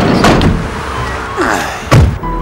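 A door slams shut with a heavy, loud thud, followed by a second dull knock and low background noise.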